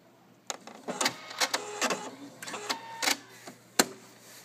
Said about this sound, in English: You press the little cut button.